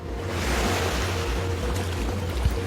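Ocean waves wash against the coast of the Arabian Peninsula at sunrise, a continuous loud roar of surf mixed with wind buffeting the microphone.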